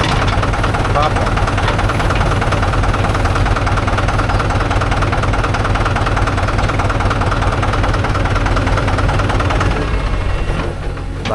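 A JCB 3DX backhoe loader engine idles while loading soil beside Mahindra 575 and 415 tractors, a loud, continuous diesel chugging with a steady knocking rhythm close by, running unbroken almost to the end.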